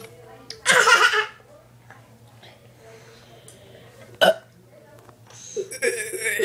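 A child burps loudly twice, each a short raspy burst close to the microphone, and other children talk and giggle in between.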